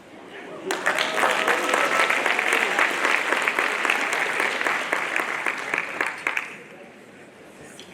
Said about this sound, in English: That deserves a roarous applause.